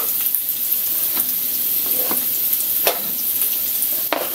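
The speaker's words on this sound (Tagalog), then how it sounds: "Tapos, nilagay ko na yung ating bawang, sibuyas at luya." Garlic, onion and ginger sauté in a pan with leftover smoked fish bits, a loud constant hiss punctuated by a few sharp spatula scrapes, with nobody speaking.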